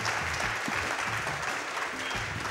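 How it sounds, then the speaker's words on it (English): A large live audience at a speedrun event claps steadily and densely throughout, a continuous roar of applause with faint voices in the background. "clapping for that, man. This crowd is something else"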